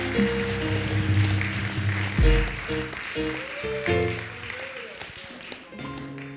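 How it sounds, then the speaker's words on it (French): A church congregation claps during a Sunday worship service, the applause running under sustained music and a voice, swelling briefly and then fading near the end. "Hallelujah, on applaudit Jésus"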